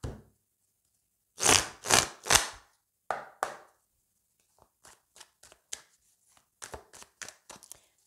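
Tarot cards cut and shuffled by hand in a reading: three loud riffling bursts, then a scatter of lighter card slaps and taps, close and dry, with no talking.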